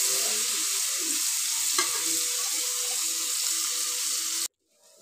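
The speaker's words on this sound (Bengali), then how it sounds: "এবার কড়াইতে এই দেখুন শিং মাছগুলো ভেজে নিচ্ছি" Singi fish fry in hot oil in a wok, a steady bright sizzle with a soft scrape near the middle that cuts off abruptly just before the end; no speech.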